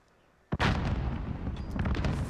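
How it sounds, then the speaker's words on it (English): Cooked grenade detonating in Call of Duty Modern Warfare during a tournament match, a sharp loud blast followed by sustained crackling rumble and scattered bursts of gunfire-like noise. "Cyclone gets taken out by a nade, a perfectly cooked nade"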